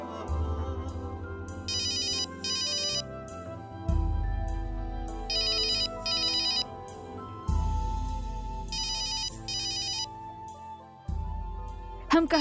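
A phone ringtone plays for several seconds, a bright repeating electronic melody with steady pulses, loud and close with no one talking over it.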